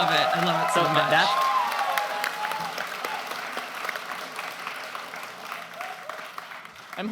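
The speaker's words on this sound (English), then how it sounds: "I'm holding for applause" A convention audience at a PAX West panel bursts into applause, a dense wash of clapping with some cheering that gradually fades, with a voice talking over the start.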